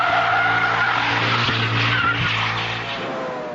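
Formula One car with traction control switched off skids, its tires squealing in a long continuous screech over the engine's roar, loud and close, fading slightly toward the end.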